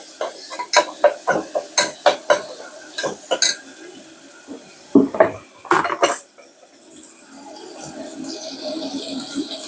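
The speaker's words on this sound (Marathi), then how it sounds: "चांगलं परतून घेऊया कांदा" Onion being sautéed in a pan for a black pea usal, with a quick run of sharp metallic spatula clanks against the pan followed by a lower, steady sizzle.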